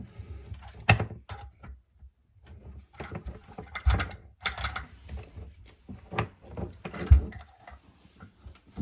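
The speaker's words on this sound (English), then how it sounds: "That's why it's best to just use an adjustable wrench, aka crescent wrench." Irregular close clicks and metallic scrapes from an adjustable wrench turning a supply line fitting under a bathroom sink during a Delta Flynn faucet install, arriving in short uneven bursts with pauses between them.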